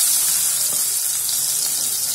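Green chillies sizzle in hot ghee during a tempering of mustard seeds, cumin, fenugreek and asafoetida for Gujarati lachko dal. The frying gives a steady, close, crackling hiss throughout.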